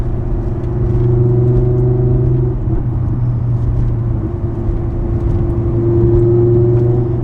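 An Audi R8 V10 engine hums steadily at a low pitch, its tone dipping briefly then climbing again as it accelerates, loud and close with no talking.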